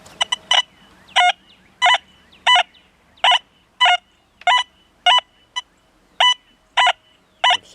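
A metal detector running a deep high-conductor program gives repeated short high beeps, about a dozen sharp bursts in an uneven rhythm, loud and close over a faint hum.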